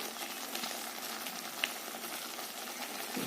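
Masala with turmeric and Kashmiri chili powder roasting in hot oil gives a steady, close frying sizzle throughout, with one sharp tick midway and no voices.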